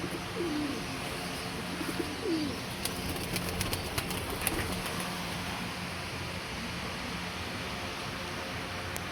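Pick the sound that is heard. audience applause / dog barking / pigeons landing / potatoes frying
pigeons landing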